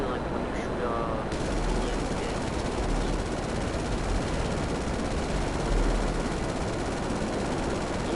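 Explosive cannon rounds from a helicopter in GTA fire in a continuous rapid rattle, dense and unbroken across the whole stretch, with steady rotor noise beneath the barrage.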